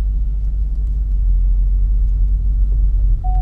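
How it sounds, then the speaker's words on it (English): Manual car pulling away gently in second gear as the clutch is slowly released without throttle, a low, steady engine rumble close by with no revving, ending in a brief faint tone. "I'm gonna put the clutch back down and put it in second gear, and slowly, slowly, slowly release the clutch."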